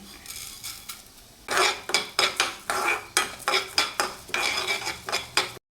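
A metal spatula scrapes and stirs cumin, coriander and urad dal as they dry-roast in a pan for holige saaru. Brisk, regular scraping strokes, about two per second, run close and loud before stopping abruptly.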